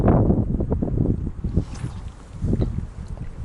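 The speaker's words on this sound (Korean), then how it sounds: "그리고 다시 시작된 미친 바람" Strong, gusty wind buffeting the microphone at a freshwater crucian carp fishing spot, a steady low roar rising and falling in waves throughout, loud and close with no voices.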